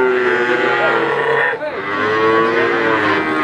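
Cattle moo loudly and close by at a cattle market in Blora, Central Java, with long, sustained bellowing calls overlapping and continuing steadily throughout, amid a busy market din.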